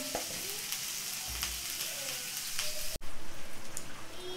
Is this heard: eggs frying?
yes